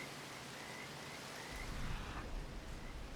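Steady rain falls across an open outdoor scene in Red Dead Redemption 2, a continuous hiss with no voices, growing a little heavier and fuller partway through.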